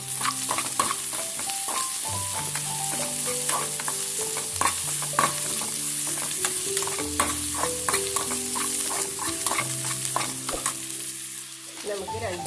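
Anchovies fry in a pan with salt and dried chillies while a spoon stirs them, giving steady sizzling broken by frequent scraping strokes. Tonal notes of background music run underneath throughout.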